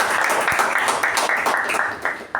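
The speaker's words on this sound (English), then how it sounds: "can we give her a strong round of applause?" A crowd applauding steadily, dense overlapping claps sustained throughout at a fairly loud, even level.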